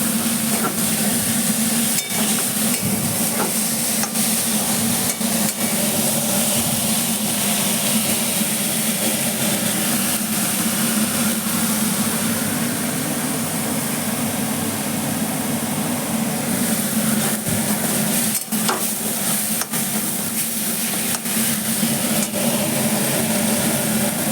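Banana flower frying and being stirred in a pan, a loud continuous hiss of hot oil running throughout, with occasional sharp scrapes and knocks of the spoon against the pan.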